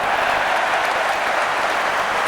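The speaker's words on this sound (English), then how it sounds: "the crowd can rightly applaud the England defence on that occasion" Loud, steady applause from a large Twickenham rugby crowd cheering England's defence against the All Blacks, a dense continuous roar of clapping filling the whole stretch with no gaps.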